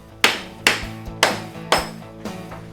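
A dead blow hammer taps wooden pieces of a torsion box shelf into place on a flat workbench, giving five sharp, close, evenly spaced knocks, each with a short ringing decay.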